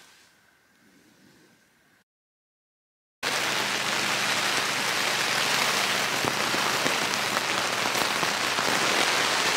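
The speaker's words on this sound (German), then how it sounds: "Und dieser Regen, der klatscht die ganze Zeit gegen das Tarp." A quiet, faint stretch gives way to a brief silence, then loud, steady rain pattering hard on a tarp, a dense continuous patter close overhead.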